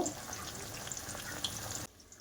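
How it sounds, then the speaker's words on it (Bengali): Sandwich pakoras deep-frying in hot oil, four pieces at once, giving a steady close sizzle and crackle that cuts off abruptly near the end. "চারটে দিয়ে দিয়েছি একই সঙ্গে দিয়ে এবার ভাজাটা করে নেব"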